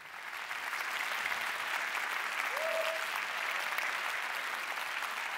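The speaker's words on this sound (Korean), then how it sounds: "잠깐 일어서서 박수 한번 받으세요" Steady applause from a lecture audience fills the room, a sustained wash of clapping at moderate level with no pauses.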